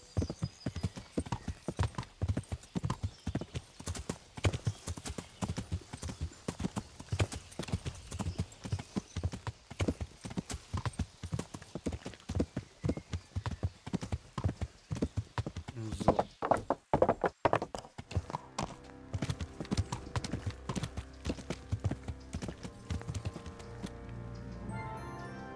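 Horse hooves clip-clopping steadily in Kingdom Come: Deliverance, a brisk continuous rhythm of hoofbeats with a short burst of louder movement midway, faint under game background sounds.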